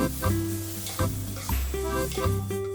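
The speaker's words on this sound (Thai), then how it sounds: "จากนั้นผัดคลุกเคล้าให้ส่วนผสมละลาย ให้ไข่เคลือบเส้นพอประมาณ" Wide rice noodles with pork and egg being stir-fried in a pan, giving a steady close sizzle with repeated scraping strokes of a utensil against the metal.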